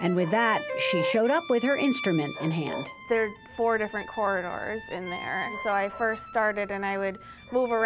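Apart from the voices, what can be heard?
No distinct noise like a dog, phone or traffic.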